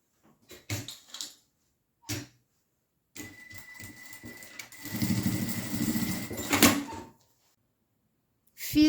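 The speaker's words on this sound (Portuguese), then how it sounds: "Fiz uma costura de pesponto aqui nessa borda e aqui também." A domestic sewing machine topstitches along the edge of a fabric pouch, a steady whirring run of a few seconds near the middle, preceded by scattered handling knocks and clicks.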